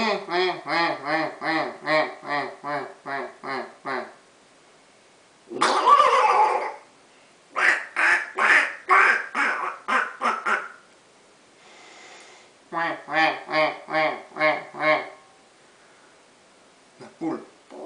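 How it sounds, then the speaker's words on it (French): Repeated nasal duck quacks come in rapid bursts of several calls, separated by pauses, with a brief noisy flutter and a few isolated calls between the groups. "Le canard."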